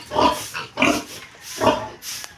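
A pig grunts close by in a pen, giving four loud, rough grunts at a steady pace, with no talk over them.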